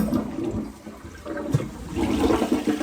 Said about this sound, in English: Now you're gonna flush your toilet.